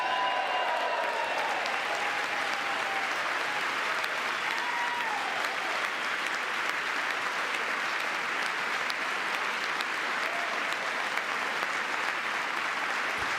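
Members of Congress applauding during a presidential address, a sustained wall of clapping from a large chamber crowd that holds steady and even for over thirteen seconds, with faint voices buried underneath.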